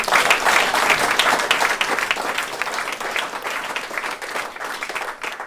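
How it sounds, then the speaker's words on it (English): Surf contest teams at a prize-giving break into a loud, steady round of applause, a dense crowd of clapping that holds for over five seconds with only a slight easing toward the end. "give yourselves a round of applause"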